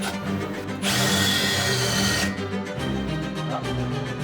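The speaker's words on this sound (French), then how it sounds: "de percer les trous pour la contreplaque qui va venir se prendre à l'intérieur de la portière" A power drill bores holes through a van door panel for an interior counterplate, a loud steady whine lasting about a second and a half amid close workshop noise.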